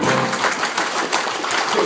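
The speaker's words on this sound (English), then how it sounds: "we're going to get everyone in the room tonight clapping their hands as fast as they can" Audience members in a room clap their hands as fast as they can, a dense, continuous rapid patter of many hands that stays steady and fairly loud throughout.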